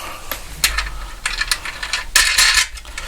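Washers and nuts rattle and clink onto bolts during workshop assembly, a close series of small irregular metallic clicks and jangles at moderate loudness with no talk.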